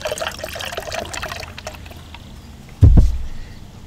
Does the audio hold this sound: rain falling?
no